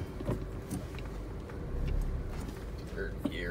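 A 2006 Mini Cooper S with a 6-speed manual rolls along in second gear, its engine a low steady hum beneath a nearby voice, with faint clicks and rattles on top.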